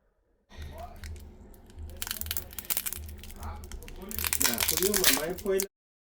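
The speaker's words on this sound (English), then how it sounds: "what you need to do is we just pull the strip" A blue adhesive strip is peeled off the battery of a Samsung Galaxy A15 5G, giving close crinkly tearing in two bursts, the second longer and louder, over a low steady hum.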